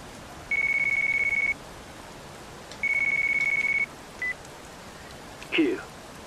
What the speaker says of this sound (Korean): 어, 전화 왔어요.